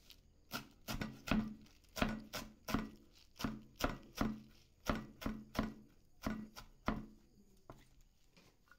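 A knife chops vegetables on a cutting board for lumpiang gulay, giving steady, close, crisp strikes in uneven bursts of about twenty chops with no talking.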